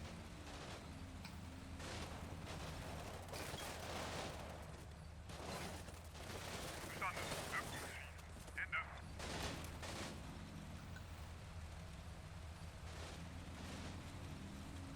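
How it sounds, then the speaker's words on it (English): Machine gun fire from a World War II unit in Combat Mission Final Blitzkrieg, Kampfgruppe Piper campaign, rattles in distant bursts within faint battlefield noise while someone talks over it. "the machine gun there's firing on them"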